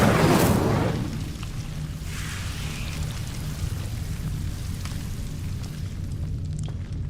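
An Incendio fire spell cast in the video game Hogwarts Legacy, a loud whooshing flare at the start that fades into a steady crackling, rain-like hiss.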